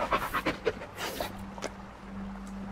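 In the video game Blair Witch, a dog pants in quick, close breathy bursts that fade into a soft low hum, with no talking.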